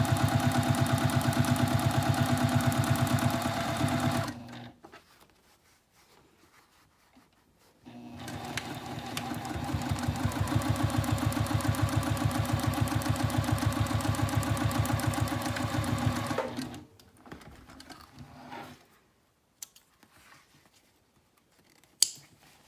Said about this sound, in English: We're going to sew a 1/2 inch below the top folded edge.